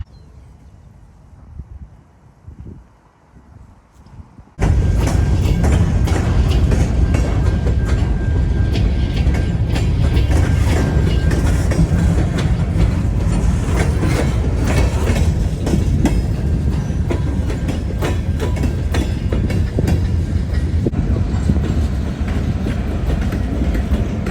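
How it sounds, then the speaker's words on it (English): A Canadian National freight train rolls steadily along the mainline at Coteau, Quebec, its loud continuous rumble and rail clatter starting abruptly after a quiet opening and holding close and strong to the end. "this train is the one we just saw coming off the main. And it's just going along there"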